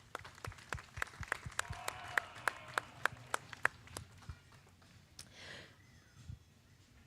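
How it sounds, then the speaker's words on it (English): Audience at a county fair princess and queen contest clapping, a sparse scattering of individual claps from a modest crowd, fairly distant and soft, tapering off. "Let's give Taylor a round of applause for dedicating her time with us today."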